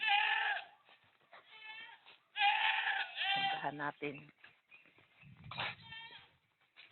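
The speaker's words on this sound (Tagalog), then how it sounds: "Yan, may mga kambing doon." Several goats bleat loudly nearby in repeated wavering calls, with a person speaking briefly between them.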